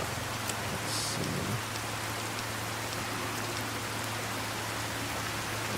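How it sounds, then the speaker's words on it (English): Steady, dense rainfall in the Mojave wasteland of Fallout: Tale of Two Wastelands, a constant hiss of drops with a low hum underneath and no talking. "It's still raining, which I think is cool."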